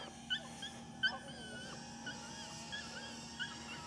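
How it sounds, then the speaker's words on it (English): A dog whimpers and yips in faint, high, wavering bursts at a distance, set against a constant buzzing whine from a flying drone, outdoors near a lighthouse and water. "the dog's freaking out"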